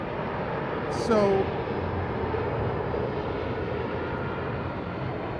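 An airplane passes overhead, a broad steady engine roar filling the background, with a brief spoken word near the start.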